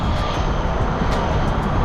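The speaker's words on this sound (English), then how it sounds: "Sorry about the plane flying overhead." A low-flying airplane passes overhead outdoors, a loud, steady broadband engine roar that fills the whole moment without letup and with no talk over it.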